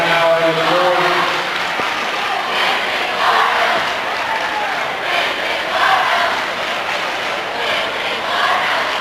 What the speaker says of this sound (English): The Newcastle student section cheering "This is our house,"